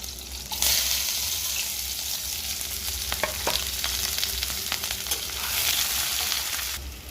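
Onion, green chili and five-spice seeds frying in hot oil for a leafy greens dish, a steady close sizzle throughout with occasional sharper crackles and pops, no talking.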